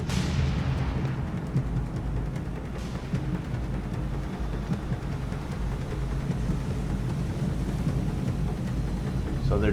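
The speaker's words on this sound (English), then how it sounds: "Follow the gunfire, dummy." Naval gunfire in the video game War on the Sea rumbles as a continuous, heavy low roar of distant shelling and engine noise, loud and unbroken, with no clear separate shots.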